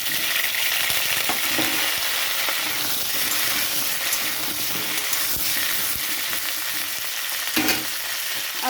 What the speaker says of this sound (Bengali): এখানে আমি দিয়ে দিচ্ছি আলু ভাজার জন্য।